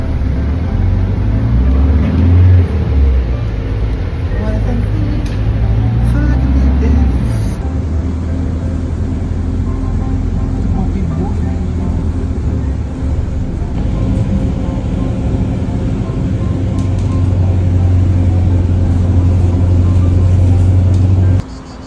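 Steady low engine rumble and road noise inside a moving bus heading to Midway in Medveja, Croatia, continuous and loud throughout, with a shift in tone partway as the vehicle changes speed.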